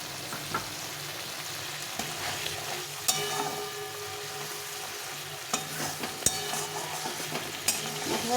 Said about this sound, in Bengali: আর এই মশলা বাটিটা দিয়ে একটু জল দিয়ে দেবো, দিয়ে এটাকে ভালো করে কষিয়ে নিই।